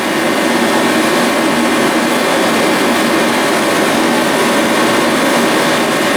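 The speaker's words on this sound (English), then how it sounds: "Got the heater going a little bit this morning." A diesel-burning heater runs loudly on a cold morning, giving a constant, heavy roaring rush of burner and fan with no variation and no voices over it.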